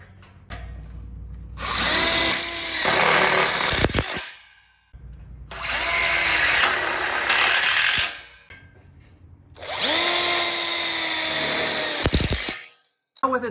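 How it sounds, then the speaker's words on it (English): A power drill drives self-tapping low-profile screws into a welded split bar kit for an outdoor kitchen, in three long whirring bursts separated by short pauses, loud and close. "we'll just go ahead and put a screw in here and a screw in there"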